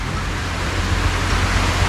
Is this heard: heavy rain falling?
yes